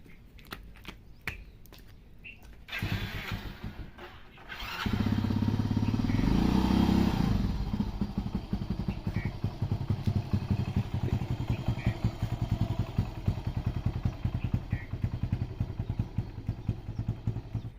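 Motorcycle engine running close by on a farm, starting with clatter and rising to a loud steady drone that settles into a continuous running rumble.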